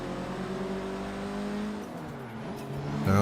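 Ford Focus engine revving in Forza Horizon 3, a steady loud drone with harmonics that dip as the revs drop, then climb again toward the end.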